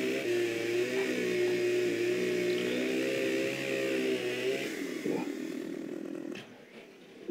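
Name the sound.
Husqvarna chainsaw in Farming Simulator 15 video game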